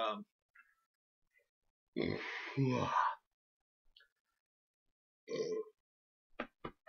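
A man lets out a few close, low burps between short quiet gaps, with some small clicks and breathy sounds around them.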